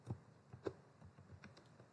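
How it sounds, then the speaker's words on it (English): Typing on a computer keyboard while entering Python code at a command prompt, soft irregular key taps at close range against a quiet background with no speech. "Now I am typing here x equal to"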